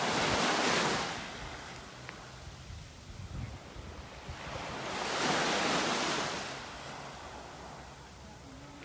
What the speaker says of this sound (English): A little rippling in the water.